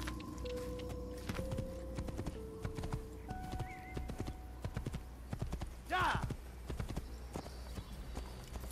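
Horse hooves clip-clop steadily in the Assassin's Creed video game, close and rhythmic, with a sharp whinny partway through and voices talking over the hoofbeats.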